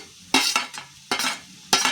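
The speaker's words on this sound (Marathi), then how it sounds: "तर आता मी त्याच्यात डायरेक्ट खोबरं आणि कोथिंबीर घालते।" Grated coconut and chopped coriander being spooned into boiled, softened kantikanag tuber vegetable in a pan, heard as three sharp scraping spatula strokes spaced apart, close and clear with no talking.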